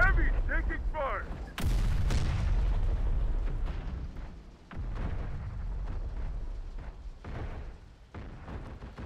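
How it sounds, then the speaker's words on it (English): Heavy artillery fire in the Terminator: Dark Fate Defiance battle game, with a series of loud booming blasts and rumbling impacts that recur across the stretch, dense and close. "they got artillery as well"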